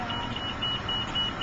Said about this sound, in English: That beeping says you're going to overspeed the airplane.